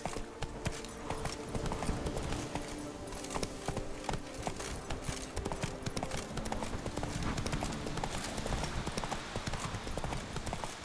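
Roach, the horse in The Witcher 3, trots with a steady, rapid clip-clop of hooves that carries on without a break, close and fairly loud against a low game backdrop.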